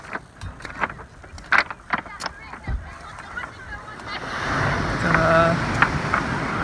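Ocean waves roll in and break on rocks at a beach, building into a broad rushing wash in the second half after scattered knocks and handling noise, with some wind and nearby voices.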